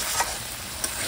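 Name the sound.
meat being stir-fried with spices (kosha)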